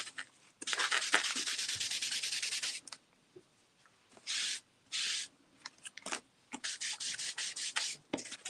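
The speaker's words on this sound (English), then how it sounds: "those look really good when you sand the edges" Paper edges being sanded for a craft project, heard as close, steady rasping strokes: one long run, then short separate bursts, then a quick series of rubbing passes.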